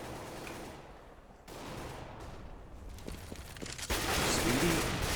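AK rifle shots in CS:GO on the Cache map during a pro match, a few sharp cracks at mid distance under a caster's steady commentary, with a louder burst of fire near the end.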